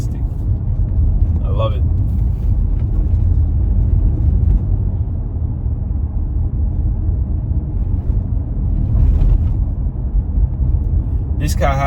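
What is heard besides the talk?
Lexus RX 350 F Sport engine slowing down and speeding up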